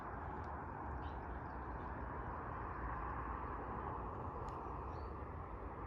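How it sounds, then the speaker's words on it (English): Steady broadband rumble of distant motorway traffic beyond a hedge on a clear morning by an English cottage garden, a constant wash of road noise with no breaks, faint birds chirping now and then above it. "Sorry about the road noise this morning."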